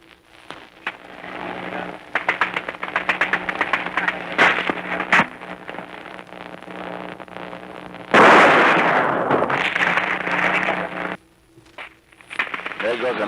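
Shell explosions during the 1944 Battle of Kwajalein: a dense run of sharp cracks and thuds, followed by a louder, rougher roar that cuts off abruptly, with someone talking throughout.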